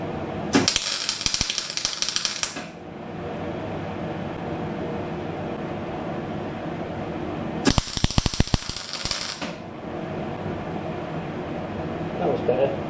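Gasless welding on a Lambretta engine stand: two loud, sizzling crackling bursts, each roughly two seconds long, separated by a steady hum of background machinery, heard close with no talking.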